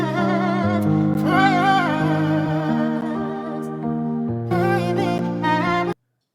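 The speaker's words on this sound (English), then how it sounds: "I'm using the Rhodes LA Custom Chorus from Keyscape." Rhodes electric piano from Keyscape's LA Custom Chorus patch plays mellow, chorus-warbled chords with a soft melody on top, ringing clearly before stopping abruptly.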